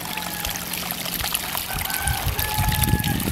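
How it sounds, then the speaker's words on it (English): Irrigation water in a Bali rice field, trickling and pouring steadily through a channel at close range, with faint distant tones and louder splashing near the end. "the water flows like this"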